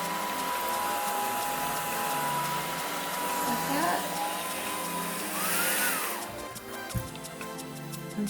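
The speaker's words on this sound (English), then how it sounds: "And I just blow dry it." A hair dryer blows steadily and fairly loud while hair is blow-dried from the roots, a continuous whooshing roar that shifts slightly as the dryer moves, with a brief clunk near the end.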